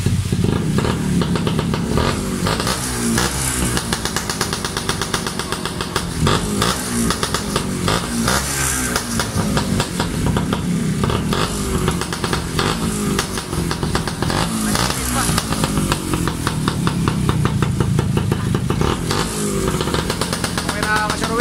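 A Kawasaki XD3 motorcycle engine runs loud and close with a harsh, continuous rattling drone, its pitch wavering slightly, while voices talk over it.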